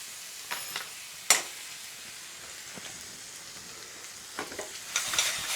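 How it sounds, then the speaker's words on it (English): Potatoes frying in a pan for Bombay potatoes, a constant close sizzle with scattered crackles and a sharp clatter near the start, then louder bursts of hissing toward the end; no one speaks. "Then we're going to put our potatoes."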